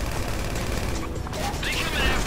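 Rapid bursts of gunfire in GTA V Online rattle continuously, dense and loud, with faint voices and game sounds underneath.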